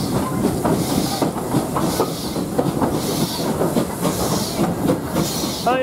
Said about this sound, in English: Four carriages coming to the platform